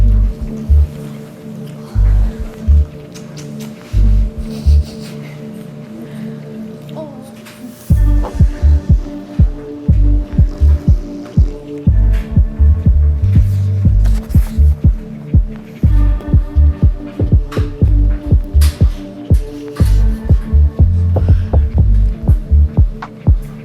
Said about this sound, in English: sorry if you can hear the laundry in the background, it's kind of loud.